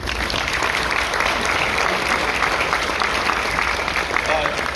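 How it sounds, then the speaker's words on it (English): Sustained audience applause at a senior football banquet, a dense steady wash of clapping filling the room at even loudness throughout, with no talk over it. "I do want a round of applause for this guy, Malik Autry"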